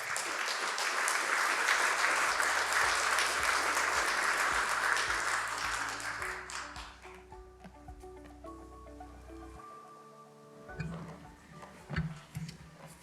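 Audience applause greets a panel at a talk on domestic extremism and political violence: a loud, steady wash of clapping from a crowd that fades out after about six seconds, leaving quieter room sounds and faint ticks.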